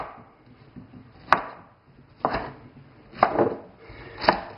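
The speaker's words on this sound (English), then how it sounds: "And then we're going to chop them up even more." Lemon cucumbers chopped on a wooden board, with four sharp, close knife strikes spaced about a second apart and each followed by a short crunchy ring-out, with quiet pauses in between.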